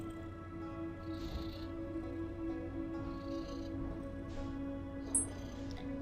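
A cat purrs close to the microphone, a low, steady rumbling hum lasting throughout, with a few soft rustles over it and a brief sharp click near the end.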